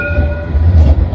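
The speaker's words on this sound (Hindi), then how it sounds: "ये रही ट्रैम और ये इस तरीके से यहाँ की जो बनी हुई पटरी हैं उस पर चलती है।" A tram rolls along its rails through a Scottish city, a loud, close low rumble with a brief whine of wheels on track, heard alone for about a second.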